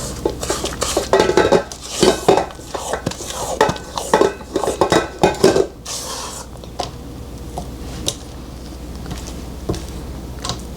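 A spatula scraping around the sides of a mixing bowl of cake batter with lemon juice, a run of close, repeated clattering scrapes and knocks for several seconds, then quieter, sparser taps.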